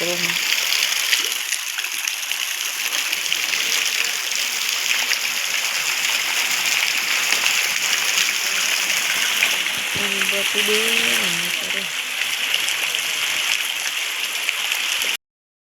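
A village river runs high after heavy rain, a loud continuous rush of flowing water close by, with a brief voice rising over it midway.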